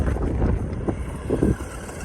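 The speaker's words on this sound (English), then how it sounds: "Gosh, it's so windy." Strong wind buffets an outdoor microphone in the Alabama Hills near Lone Pine, making a loud, steady low rumble that swells and dips in gusts.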